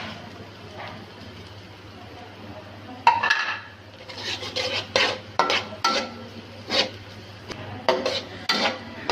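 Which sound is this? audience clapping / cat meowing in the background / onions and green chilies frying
onions and green chilies frying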